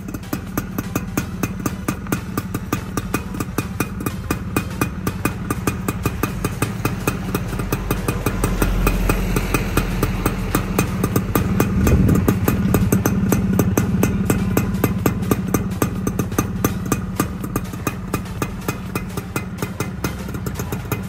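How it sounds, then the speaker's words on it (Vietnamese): Suzuki Xipo 110 motorcycle engine idles with its exhaust note, a steady rapid putter held for about twenty seconds, close and even, swelling slightly midway, with no one talking. "em sẽ nổ máy cho anh em nghe tiếng máy và tiếng bô"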